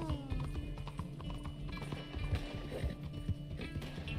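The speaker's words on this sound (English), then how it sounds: "Let's go, horse. Let's go." A horse galloping in Red Dead Redemption 2, rapid rhythmic hoofbeats pounding close and loud throughout, with a brief whinny at the start.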